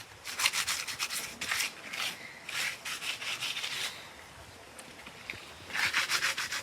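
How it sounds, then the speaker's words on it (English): Sandpaper rubbing over a painted fake rock planter, a series of close, rhythmic scratchy strokes in short bursts with brief pauses between. "So the sandpaper is fantastic because it brings some of the gray through."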